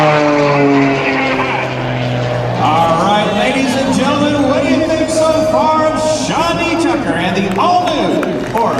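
Sean D. Tucker's Oracle Challenger aerobatic plane flies a practice routine at the 2010 MCAS Miramar airshow. Its loud propeller engine drones and bends in pitch throughout, under an announcer's continuous commentary.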